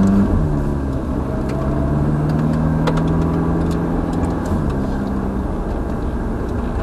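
A Ferrari F430 drives on Thruxton Circuit, its engine droning loudly and steadily near the microphone as it pulls through an upshift, with tonal engine lines shifting in pitch.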